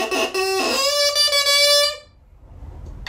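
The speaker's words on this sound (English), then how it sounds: "The contrabassoon has a much larger reed in comparison to the bassoon" A contrabassoon plays a few sustained low notes with a reedy, buzzing tone at moderate loudness, each note separated by a short break, then fades into quiet room sound.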